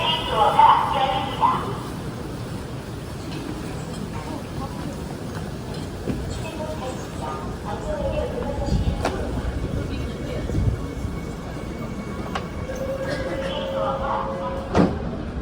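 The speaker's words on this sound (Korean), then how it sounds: "지하철 타기" A Seoul subway train rumbles steadily during the ride, with faint rattles, clunks and a brief chime over the low cabin noise, while people talk quietly.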